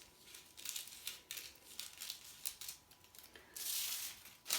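Scissors cut fabric along a sewing pattern line in a run of quick, soft, crisp snips. It is close and quiet, ending in a longer rasping slice.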